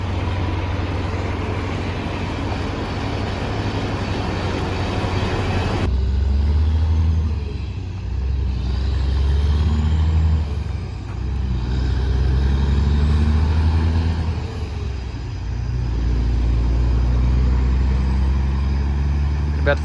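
Peterbilt 379 truck hooked to a spread axle trailer hauling a heavy load, a loud continuous diesel drone with deep low rumble and shifting engine tone, close and sustained throughout.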